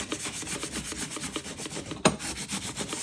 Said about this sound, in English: the grit of sandpaper I'm using probably doesn't matter too much, but it's probably a 120, I think.